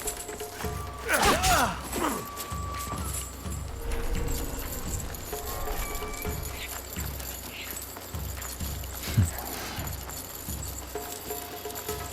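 A horse's hooves clip-clop steadily in the Assassin's Creed Shadows video game as a mount travels toward a viewpoint, a continuous moderate trot layered over ambient game sound, with a couple of heavier thumps.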